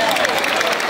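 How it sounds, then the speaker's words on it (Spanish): Applause from a crowd at a charro arena, the Lienzo Charro Adolfo López Mateos in Ciudad Juárez, Chihuahua, a brief steady wash of clapping with some voices mixed in. "Fuerte el aplauso, que se escuche."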